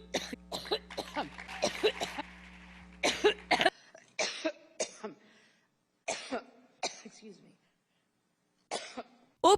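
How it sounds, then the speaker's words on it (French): Repeated coughing fits and throat clearing from the Democratic candidate, a former Secretary of State, come as short sharp bursts in uneven clusters, some overlapping background talk early on, then isolated coughs spaced apart. "ces quintes de toux à répétition qui interrogent l'Amérique"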